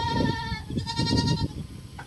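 Goats bleat on a rural Vietnamese farm: several wavering, nasal calls in quick succession sound close and fairly loud over light background noise.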